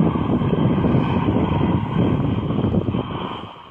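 Jet skis race past, picked up underwater through a Nevka hydroacoustic diver communication station as a loud, dense, muffled engine roar that fills the sound and fades slightly at the end.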